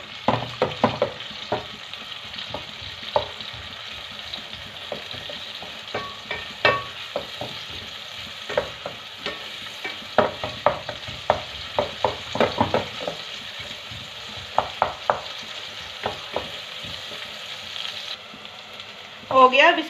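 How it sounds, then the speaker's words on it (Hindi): Finely chopped onion sautés in a pan with a steady sizzle and crackle. Repeated scraping and stirring clatters sound close by across the whole stretch. "प्याज को थोड़ा सा सौते कर लेंगे।"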